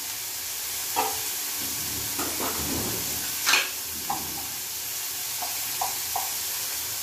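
Cumin seeds sizzling in hot oil in a pan while masala is cooked down for pomfret kalia, a steady close frying hiss with a few light stirring clicks and taps.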